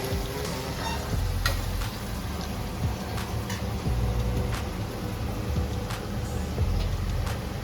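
Onions frying in a pan with bay leaf for a chicken sukka give a steady, moderate sizzle, broken by scattered sharp clicks and crackles of stirring, with no talk.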